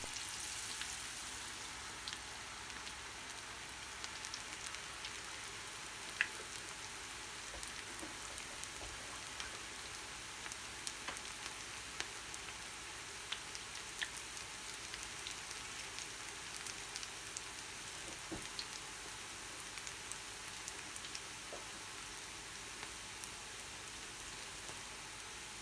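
Onion bhaji fritters deep frying in oil make a continuous soft, rain-like hiss with faint crackles, steady and moderately quiet for the whole stretch, with no voices.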